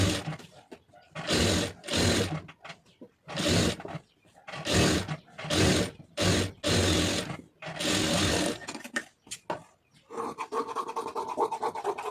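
A sewing machine stitches a lined blouse in bursts of loud, rapid whirring, stopping and starting several times with short pauses between runs.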